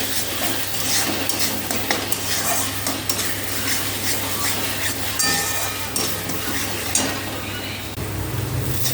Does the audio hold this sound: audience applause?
no